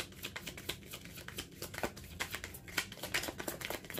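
Tarot cards are shuffled by hand close up, giving quiet, rapid, irregular riffling and slapping sounds with no talking.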